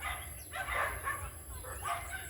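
Near a village tree laden with fruit, a dog barks repeatedly in two clustered bursts, moderately loud over a steady low hum and faint background noise.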